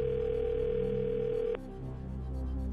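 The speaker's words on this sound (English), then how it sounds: "We're gonna get Jeff on the line." Telephone line tone on a game show phone-a-friend call, a steady electronic tone held for about a second and a half, then cut off as the line clicks through, followed by low background hum.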